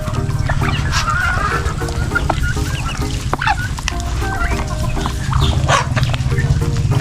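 Roosters and native crossbreed chickens on a farm clucking and calling over one another, loud and continuous, with repeated honking cackles and a busy flock chorus throughout.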